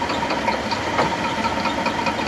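Engine idling steadily as a Ford AOD automatic transmission is put into drive on a dyno test stand, a continuous loud mechanical drone with faint rattle throughout.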